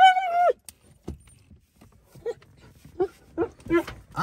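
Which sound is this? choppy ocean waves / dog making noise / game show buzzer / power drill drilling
dog making noise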